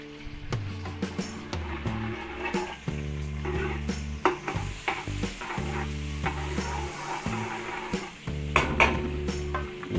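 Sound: margarine or cooking oil sizzling while stirred in pan

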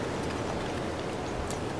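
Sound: rain falling in The Legend of Zelda: Breath of the Wild video game

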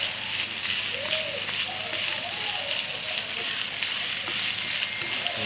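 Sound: chicken being sautéed in a pan

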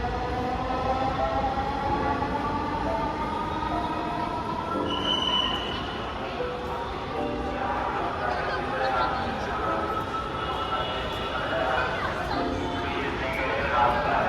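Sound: Dhaka metro rail train running

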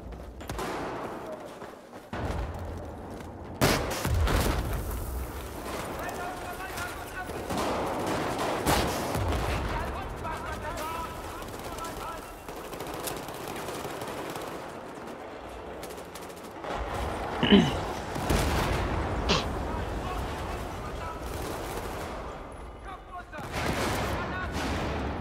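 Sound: Groza-4 rifle gunfire in video game Battlefield 4

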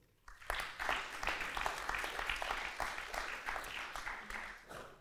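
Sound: applause

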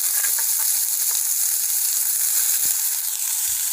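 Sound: sliced onions and curry leaves frying in oil

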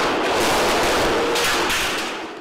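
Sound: grenade explosion in Juárez drug war

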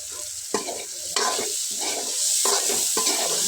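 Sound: onion, garlic and spices frying in oil

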